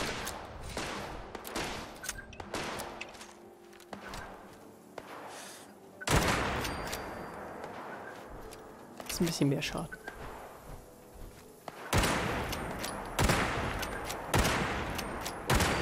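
Bursts of gunfire in Fallout 76, rapid volleys of shots in several loud clusters separated by quieter stretches, with someone talking over the action.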